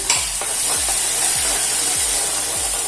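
Chilli and onion stirred and fried in a pan for poha, a spoon scraping the pan in regular strokes roughly every half second over a steady close sizzle.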